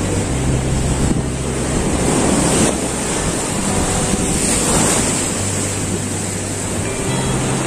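Sea waves breaking on the shore at Digha beach with strong wind buffeting the microphone, a steady broad roar throughout with a faint low engine hum underneath.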